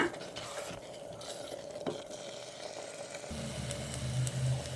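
Ground sambar masala roasts in a pan while a spoon stirs it, producing continuous scraping and light sizzling close by, with a low hum joining in the second half; no one speaks.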